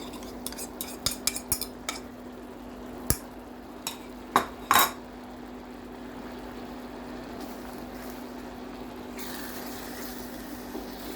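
Egg being mixed into tomato sauce in a pan for fish sarciado, with a burst of sharp clinks and scrapes from a utensil against the pan early on, then a quiet steady background.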